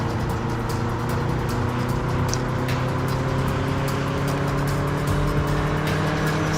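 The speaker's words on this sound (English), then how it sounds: "still got the nice car sounds" Car engine sounds in the Transformers Revenge of the Fallen video game: a sustained, loud, revving motor drone with tonal whine and shifting pitch, steady throughout with faint clicks above.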